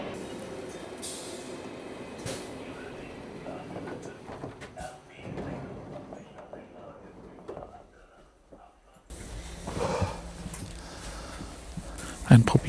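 An IC intercity train pulls into a station platform, its low rumble and rail noise rising and falling before a brief lull and a louder burst of approach, with station voices and announcements over it.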